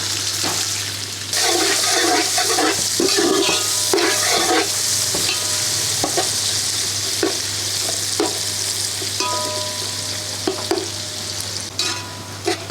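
Two large chopped onions added to hot oil after browning garlic, frying loudly with a strong hissing sizzle and repeated stirring scrapes and clatters, close and continuous, for chicken kabsa.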